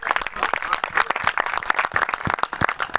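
Audience clapping at a Saraiki poetry recital, a dense patter of hands filling the room steadily from start to finish, fairly close.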